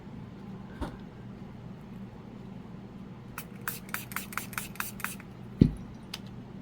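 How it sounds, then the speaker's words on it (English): Alcohol is sprayed onto a resin tray in a quiet room: a series of short, faint hissing spritzes come in quick succession after a single soft knock, followed by a louder thump. "I'm going to spray some alcohol down there."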